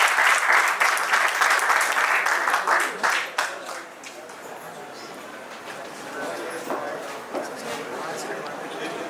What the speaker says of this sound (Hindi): हमारे प्यारे डायरेक्टर से प्लीज जोरदार तालियां हो जाएं।